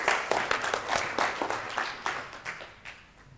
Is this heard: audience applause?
yes